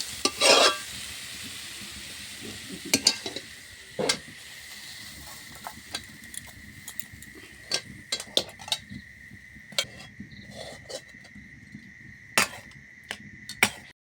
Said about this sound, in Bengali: ভালোভাবে এটাকে নেড়ে নিতে হবে, চিনিটা গলে যাবে